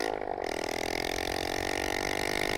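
A Suzuki GS125 motorcycle engine hums steadily at mid pitch, a sustained buzzing note that barely varies over a couple of seconds.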